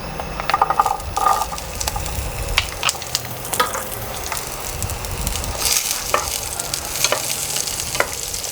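Twenty to thirty small peeled shallots frying in hot oil in a pan for a country-chicken egg drop curry: a steady close sizzle with scraping stir and rattle sounds throughout, no voices.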